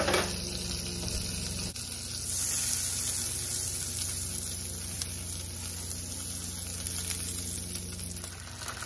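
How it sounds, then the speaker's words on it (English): Eggs fry in a pan on low heat, giving a constant crackling sizzle that grows a little louder after they go in and then holds steady. "Now, it's time to make some eggs."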